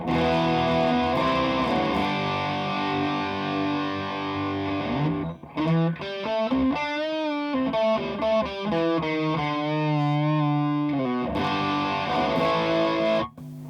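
An electric guitar played through a G3 Atom distortion pedal set to vintage mode rings out with sustained distorted chords, a busier run of single notes in the middle, then held chords again, loud and alone.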